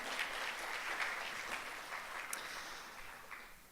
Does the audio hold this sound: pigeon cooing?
no